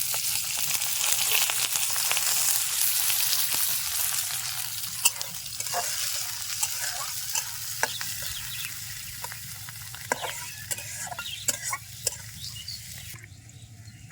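Onions and green chillies fry hard in mustard oil for a tengra fish and pumpkin curry, a loud, dense sizzle that fades a little over time while a utensil stirs and taps now and then.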